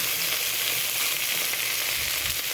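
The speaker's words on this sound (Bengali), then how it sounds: "এবার আমি কড়াইতে কেটে রাখা আলু আর বেগুন দিয়ে দিচ্ছি।" Cut potatoes and eggplant fry in a wok, giving a steady, close, loud broadband sizzle that stays constant and unbroken throughout.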